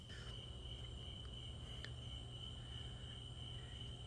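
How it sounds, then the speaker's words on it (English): Crickets chirp steadily at a distance beside a creek on the San Marcos River, a high continuous trill over a low hum in the quiet night air. "you hear the crickets right now."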